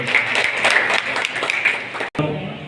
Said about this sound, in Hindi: जोरदार ताली से आप उनका स्वागत करें